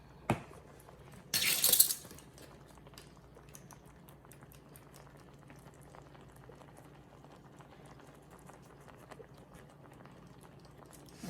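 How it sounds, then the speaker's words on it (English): A pot of chicken pasta sauce comes to a low boil, faint bubbling and popping throughout, with one brief louder rustle near the start. "And you see that's coming to a boil there."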